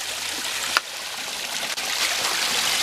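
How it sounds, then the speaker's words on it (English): A small waterfall on a creek pours steadily up close, a continuous broadband rush of splashing water with a couple of faint knocks and no voices. "A little waterfall thing here."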